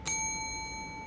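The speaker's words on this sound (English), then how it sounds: "I didn't ring the bell" A single clear bell strike with a bright metallic ding that rings on and fades slowly over a second, close and loud with no voices.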